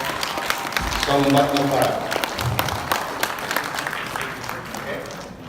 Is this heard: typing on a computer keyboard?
no